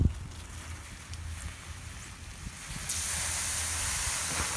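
Hot metal hisses and sizzles as cold water hits it, a low rumble giving way to a sudden, steady, loud steamy hiss that carries on to the end.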